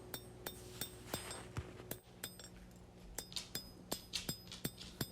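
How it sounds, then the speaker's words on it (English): Hand forging a steel knife blade for a large skinner: a hammer strikes the hot steel from the underside in a steady series of sharp metallic clinks, about a dozen blows at close range with no talking. "we're going to hammer from the bottom side"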